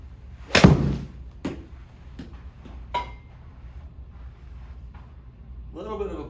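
A PING G430 iron strikes a golf ball on a driving range, a single sharp loud impact near the start followed by a few fainter knocks and a brief voice at the end.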